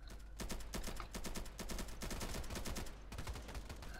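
Rapid automatic gunfire from the video game Polygon, bursts of closely spaced shots with brief gaps between them, loud and alone without talk.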